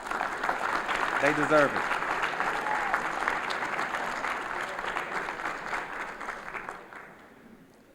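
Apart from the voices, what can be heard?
audience applause at sports awards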